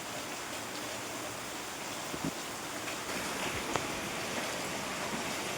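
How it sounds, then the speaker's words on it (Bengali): Continuous monsoon rain pours down in a steady, unbroken wash of hiss that stays even throughout, with a few faint knocks and drips near the middle. "সব জায়গায় মানে একই অবস্থা, বর্ষাকালে একটানা বৃষ্টি হয়েই যাচ্ছে।"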